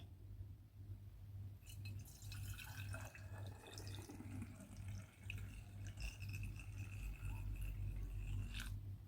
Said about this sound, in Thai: วิธีการยกถังไวน์นะคะเราจะยกแบบเกงข้อมือ เรายกแล้วก็เทลงขวดได้เลยค่ะ